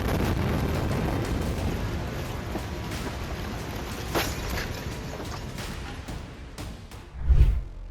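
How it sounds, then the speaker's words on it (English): Massive explosion in Beirut heard from a distance: a sustained rumbling roar with a sharper low boom rising near the end. "The moment the terrible explosion in Beirut shook the whole earth."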